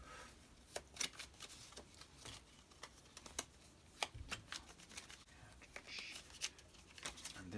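Playing cards from the Onirim solo board game riffle and slap together in repeated sharp bursts, close and fairly loud, with soft handling noise between the shuffles.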